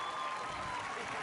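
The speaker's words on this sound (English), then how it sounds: "let's keep those round of applause going here for the last little bit" A crowd applauds at a high school commencement, producing a steady, dense wash of clapping from a large audience. A faint tonal whine runs underneath, and no distinct voices stand out.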